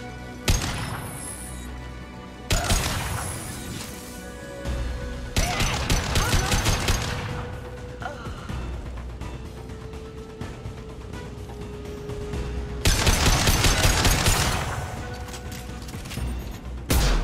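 Rapid video game gunfire rattles in loud bursts and sustained automatic volleys, with distinct clusters of shots separated by quieter stretches of game ambience.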